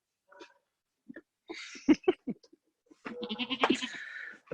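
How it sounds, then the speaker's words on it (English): A purebred La Mancha dairy goat on a homestead farm gives several short, close bleats, spaced irregularly, followed by a longer wavering bleat. "Figgy Pudding is a purebred La Mancha goat."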